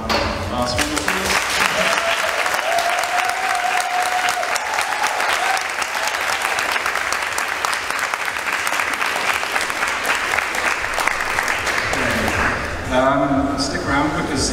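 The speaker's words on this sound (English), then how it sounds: "can everyone please give that one last round of applause?" A sustained round of applause from the crowd at a vegan camp-out, steady dense clapping with voices talking over it and a brief musical tone near the end.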